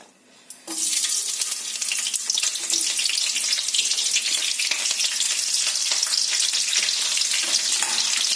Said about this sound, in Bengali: এখানে তেলের মধ্যে আমি প্রথমে পেঁয়াজটা দিয়ে দেবো।